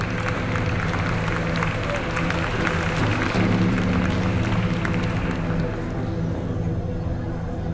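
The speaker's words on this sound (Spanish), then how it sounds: "denle un gran aplauso a la familia Camerjan una vez más por su contribución" A crowd applauding at an auction, dense steady clapping that holds at an even level and fades slightly at the end.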